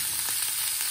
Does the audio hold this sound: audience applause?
no